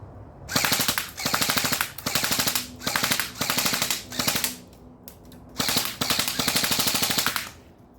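An airsoft AEG rifle fires at targets in rapid full-auto bursts, six or seven sharp chattering strings separated by brief pauses, loud and close with no talking.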